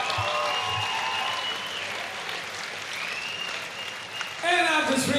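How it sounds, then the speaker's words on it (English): A fight-night crowd applauds after a three-round bout, sustained clapping and cheering that swells again near the end, with a voice talking over part of it. "give these guys a round of applause"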